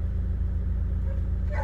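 An old car's engine idles with a steady low rumbling hum, close and continuous, with a short brighter sound near the end.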